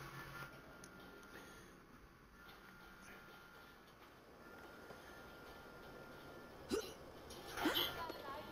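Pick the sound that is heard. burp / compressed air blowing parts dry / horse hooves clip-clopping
burp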